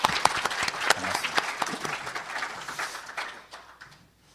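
An audience at a forum marking the anniversary of the October 4 inter-Korean summit declaration applauds a former minister, with loud, dense clapping that gradually tapers off and fades out near the end.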